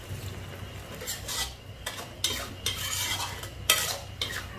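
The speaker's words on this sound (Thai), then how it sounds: "ให้ผัดให้ทั้งหมูก็มีความสุกนะคะสักระดับหนึ่งค่ะ" Pork stir-fried in a pan with fish sauce, bursts of scraping and sizzling as the meat is tossed, irregular strokes close by over a faint steady hiss, no voices.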